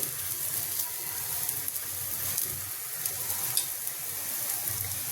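Paratha sizzling and frying in oil on a pan, a steady close crackling hiss with small spitting pops running throughout, no voices.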